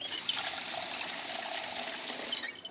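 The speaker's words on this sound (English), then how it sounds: "Fill up a bottle of water." Water filling a bottle in a zombie survival video game, a soft steady trickling pour lasting a couple of seconds, fairly faint.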